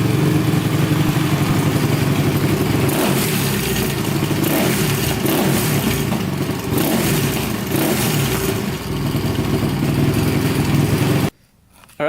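A Honda TRX450r quad engine runs loud and close, revving continuously with a rough, busy mid-range roar, then cutting out abruptly near the end.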